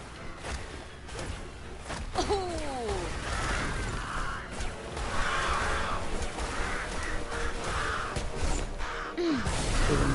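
Crow-like caws from birds in the video game Forspoken, two descending calls around a steady backdrop of game ambience and mid-range noise, with a third cry near the end.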